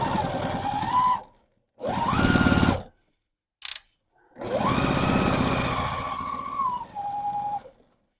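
Sewing machine back stitching the seam of a stuffed fabric goose: several separate motor bursts of steady whirring, some rising and falling in pitch, with short pauses and a brief click between runs, close and clear.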